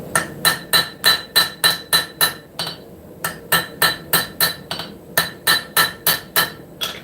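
Metal being hammered on a blacksmith's anvil with ridges in the horn, giving steady, evenly spaced ringing strikes in two runs separated by a short pause, loud and close with no talking.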